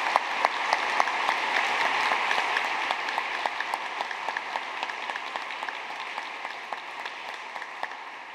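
Steady applause from an audience at an academic ceremony, a dense crackle of many hands clapping continuously at moderate distance, slowly tapering toward the end.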